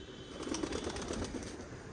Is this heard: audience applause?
no